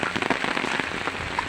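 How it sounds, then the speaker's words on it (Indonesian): Light rain falls outdoors at Baturaden, Purwokerto, close by as a steady patter of drops. Small irregular taps sit over a soft continuous hiss, with no speech. "Hujan sih, hujan kecil."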